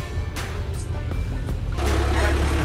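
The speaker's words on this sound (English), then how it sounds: "Tractor едет." A tractor drives past outside a countryside house, a steady low engine rumble that holds throughout and grows slightly louder toward the end.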